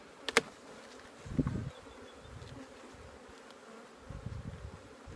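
Honey bees hum and buzz around an open beehive being rearranged for honey harvest and queen rearing, a steady close drone with louder passes as individual bees fly near, plus a few handling knocks and no talking.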